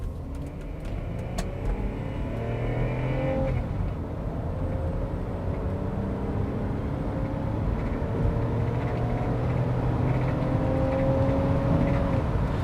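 A second-generation Toyota Avalon sedan engine revs up as it accelerates hard, its pitch climbing steadily under a continuous loud road roar.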